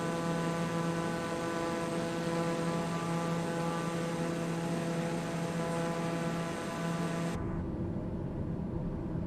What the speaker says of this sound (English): This isn't a jet, but it's a turbine.